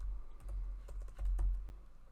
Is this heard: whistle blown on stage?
no